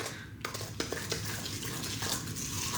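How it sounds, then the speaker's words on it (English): Hershey's chocolate chip cookie batter being stirred in a bowl, a steady close scraping and mixing texture with a few sharper clinks of utensil against the bowl, no talking. "And then you go ahead and mix that around."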